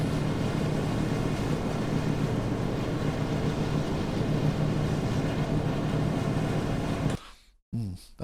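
Ship engines run in the NAUTIS ship simulator while stuck in reverse and will not shut off: a loud, steady droning hum with a faint tonal whine under wind and water noise, cutting out abruptly near the end.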